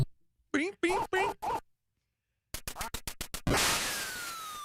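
Nintendo Duck Hunt video game sounds play back in quick bursts: rapid electronic quacks and beeps, a pause, then a fast run of chirpy blips ending in a noisy shot-like blast, heard through a speaker.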